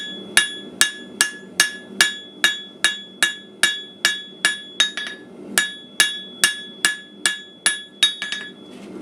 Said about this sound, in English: I will actually hit it on the edge of the hammer here to use it more of a fuller while I'm pulling it out